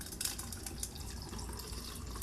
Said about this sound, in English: I take some water, I put it into my coldest water bottle here